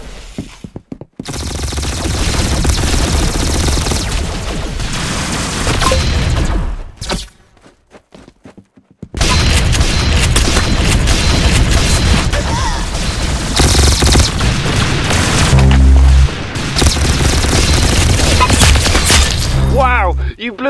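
Rapid gunfire from the Roblox game Arsenal fills nearly the whole stretch, loud and dense bursts with a brief lull midway, while players cheer and talk over the shooting.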